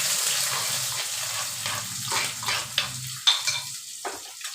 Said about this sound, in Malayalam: എല്ലാം ഒന്ന് വഴറ്റിയെടുക്കാം.